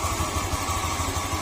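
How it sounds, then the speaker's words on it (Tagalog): A Honda Click 125 scooter idles close by with a steady, deep, rumbling engine note, continuous and unbroken, heavier and throatier than a small scooter usually sounds, like a big bike. "Kaya kung bakit ganyan yung tunog niya parang big bike"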